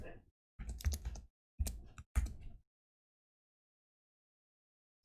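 Three short bursts of quick computer keyboard typing, with clustered key clicks separated by pauses, then silence.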